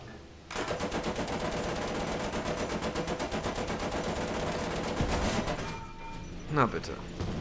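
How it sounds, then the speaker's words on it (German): The .50 caliber machine gun of an M4 Tipo tank in War Thunder fires a long, rapid, steady burst, followed by a brief pause and scattered impact noises. "Das 50er Kaliber reicht da vollkommen aus."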